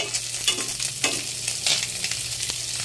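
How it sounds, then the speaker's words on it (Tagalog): Pork intestines stir-fry in a pan with steady, loud sizzling and crackling oil, broken by repeated scraping stirs, close up and with no voices. "Ang tawag dito is sinangag. Ayan. Isasangag lang."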